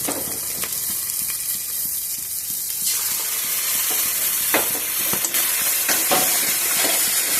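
Two spoonfuls of sour yogurt go into a hot pan with Kashmiri chili powder while cooking doi paneer, giving a steady close sizzle with scattered clicks and scrapes of stirring throughout.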